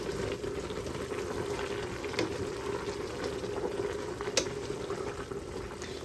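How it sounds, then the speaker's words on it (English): A pot of Southern-style kale simmers at a boil, giving a faint, continuous low bubbling with a few small pops and clicks, steady throughout. "We're going to reach that pot to a boil"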